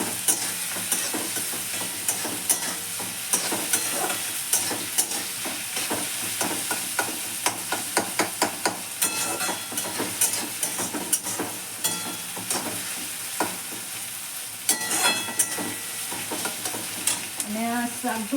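Brown sugar sautéing in a hot pan, a steady sizzle and fry with repeated scraping stir strokes and utensil clicks throughout, close and fairly loud, no talk.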